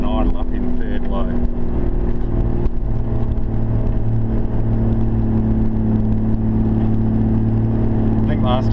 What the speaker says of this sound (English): I'm just going to try and idle up in third low.